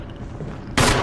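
A sudden loud gunshot bursts out at the end of a short stretch of quiet game ambience in Resident Evil HD Remaster, a single sharp blast that holds briefly.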